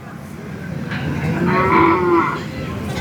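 Cattle moo at Kannapuram cattle market among Kangeyam breed stock, one long loud low call swelling through the middle of the clip over steady market background noise.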